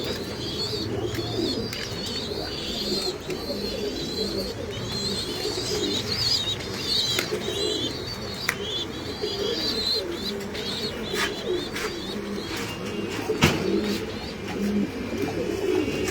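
Pigeons at a farm in Mirpur, Dhaka, cooing steadily in low repeated calls with scattered chirps from other birds, a continuous soft chorus with no talking.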